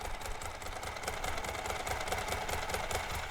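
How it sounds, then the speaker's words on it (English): A Ducati 748 sport bike's engine idles with its dry clutch rattling, a steady close mechanical chatter with rhythmic ticking over the low engine hum, no voices. "And you can hear the dry clutch. Wait, listen when I pull on the clutch."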